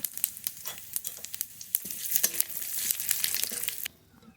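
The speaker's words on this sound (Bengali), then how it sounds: "এই তেলের মধ্যে আর একটু তেল দেব মাংসের জন্য ফোড়ন করে নেব গোটা জিরে ফোড়নে শুকনো লঙ্কা তেজপাতা" Whole cumin, dried chili and bay leaf sizzle in hot oil, a close, bright crackle with rapid popping spits that builds steadily before cutting off abruptly near the end.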